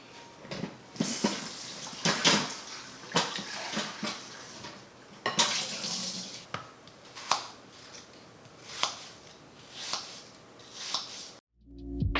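Apples rinsed under a running kitchen tap, with splashing water punctuated by repeated knocks and clatters against the sink, loud and close, no talking.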